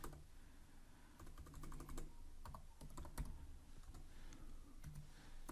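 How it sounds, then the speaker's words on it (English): Quiet, rapid keystrokes on a computer keyboard as Kotlin code is entered, an irregular run of soft clicks and taps at close range, with a single short spoken word. "Here I'm gonna type println"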